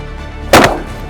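A single sharp shotgun blast while duck hunting Brant in Cold Bay, Alaska, close and loud, with a brief echoing tail over quiet outdoor background.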